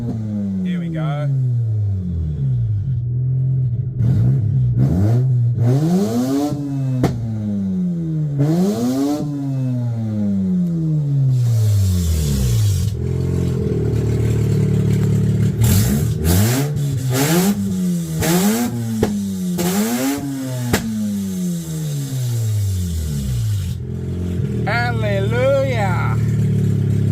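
Replacement rotary engine in a Mazda RX8 revving hard, repeated rising and falling sweeps, loud and close, with short gaps between revs.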